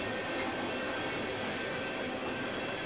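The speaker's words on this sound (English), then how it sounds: "And here comes the rear of the train." The rear of a manifest freight train rolls past with a steady, dense rumble and rattle of wagons, broken by a brief high wheel squeal, with no talking.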